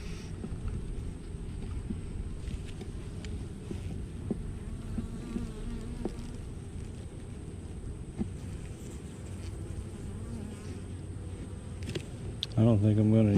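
Honey bees buzzing steadily around an open hive during an inspection, a constant low hum close by, with a few clicks and knocks from handling and a louder clunk at the end.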